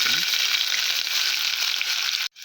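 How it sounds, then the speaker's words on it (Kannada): Onions frying in hot oil with whole spices for methi pulao: a steady, close, loud sizzle that runs unbroken for over two seconds, then cuts off abruptly near the end. "ಇವಾಗ ಈರುಳ್ಳಿ ಹಾಕ್ಕೊಳ್ಳೋಣ."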